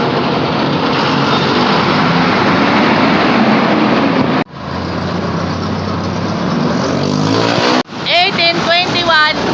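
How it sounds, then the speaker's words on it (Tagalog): A JAC Liner bus, number 8929, rumbles with a loud, continuous engine and road roar that drops out briefly twice, and a voice talks over the noise near the end. "Jackliner bus 8929."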